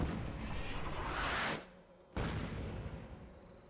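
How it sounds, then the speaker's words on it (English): Incoming artillery fire in Fallout 76 arrives as a loud, rising rushing roar that cuts off abruptly after about a second and a half, then returns after a brief gap as a second, fainter rumbling burst. "They did a good job of the incoming artillery fire noises."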